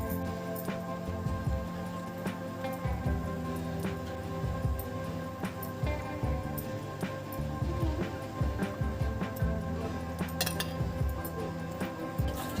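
Fried Sankar fish pieces go into a pan of thick spiced gravy for a kalia, with repeated clinks and clatters of a utensil against cookware over a constant background sizzle and kitchen hum.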